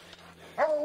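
A hunting dog gives a single sharp bark near the end of a quiet moment, holding a mountain lion down in a hole in West Texas.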